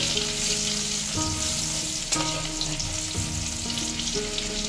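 Garlic tempering sizzles in hot oil for a Bengali fish dish, a steady crackling hiss with faint clinks and stirring scrapes, close and moderate in volume, with no talking.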